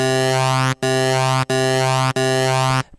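Four sustained sine-wave tones from Ableton Live's Operator synth, of equal length, each cut by a brief gap, pure and steady with a buzzy harmonic edge.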